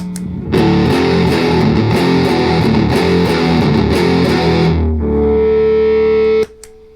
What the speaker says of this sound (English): And here's the regular Big Muff.